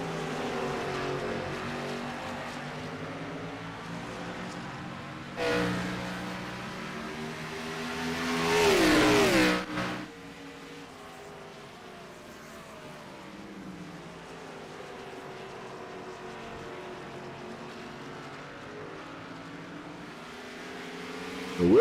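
Race cars in an LSRL Wilder Graphix Cup event at Watkins Glen roar past, engines droning steadily with a loud close pass building and cutting off before the field fades into a distant hum.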